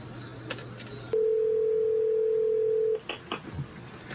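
A few quick dialing beeps, then a loud steady dial tone holding for about two seconds before cutting off into faint background noise.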